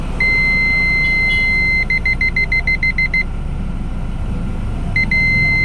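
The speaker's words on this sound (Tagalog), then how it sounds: "Ngayon mga boss, tingnan natin yung alarm nya." Parking sensor alarm fitted to a Toyota Hilux, six-sensor reverse system, giving a long steady tone, then a quick burst of close, clear beeps, a pause and more beeps, over a low vehicle hum.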